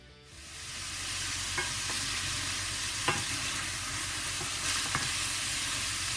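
Kefta meatballs frying in three spoonfuls of olive oil in a pan give a steady, close sizzle throughout, with a few faint clicks of spattering oil.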